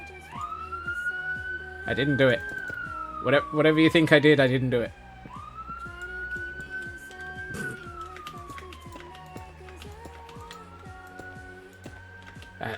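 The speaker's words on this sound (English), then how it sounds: "Hey, that's a good sign. Sirens already." Wailing police sirens rise and fall in the background at a moderate distance, with a yelping burst in the middle, while someone talks over them.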